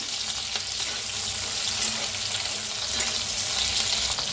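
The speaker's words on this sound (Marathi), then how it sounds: "लसूण बी छान असा भाजायला लागलाय बघा" Garlic cloves, left whole and unpeeled, and green chilies roast in hot oil in a pan, giving a steady, close sizzle and crackle with faint stirring scrapes throughout and no talking.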